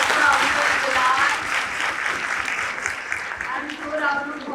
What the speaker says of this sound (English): a big round of applause for Amjad Bilal.